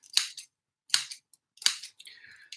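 A blade makes three quick, crisp cuts into a no-knead bread dough, each a sharp snip with a brief scrape. A faint rustle follows the last cut, all close and quiet.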